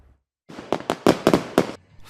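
Fourth of July fireworks go off in a quick string of about seven sharp, crackling bangs after a moment of silence, each one loud and close.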